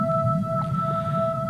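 Whale calls ring out underwater, a steady pair of sustained tonal whines held throughout over a low rumbling wash, with a short rising sweep in the middle, close and fairly loud with no voices.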